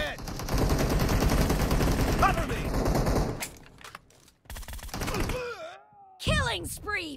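Gunshots in the mobile game PUBG Mobile: a long, dense burst of rapid automatic fire, then quieter scattered game sounds with a voice talking.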